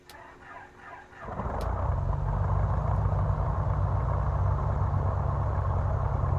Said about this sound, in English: And starting engine number 1.